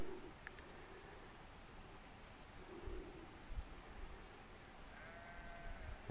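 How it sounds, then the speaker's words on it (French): Faint, distant sheep bleat a few times across an open outdoor space, over soft wind and background noise. "J'entends des moutons qui bêlent."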